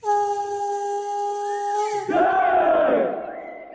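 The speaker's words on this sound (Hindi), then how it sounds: "लक्ष्मण, ये आश्रम के बाहर शोर कैसा?" A crowd of forest dwellers gathers outside an ashram, their many voices suddenly rising into a loud, excited clamour after a sustained droning tone, then slowly easing off.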